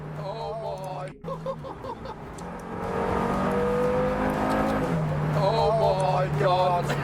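A KTM supercar's engine rises steadily as the car accelerates, a continuous whirring drone that climbs in pitch, with people talking over it in the cabin.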